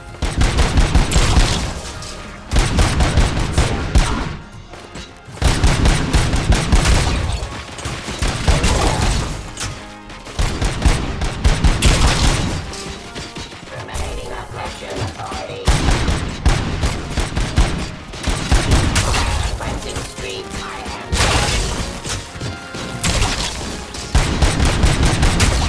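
Heavy gunfire in Robocop Rogue City, dense sustained volleys and overlapping shots filling nearly the whole stretch, loud and close, broken only by brief lulls between bursts.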